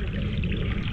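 A strong river current rushes loudly and continuously in a brief, close burst of churning water.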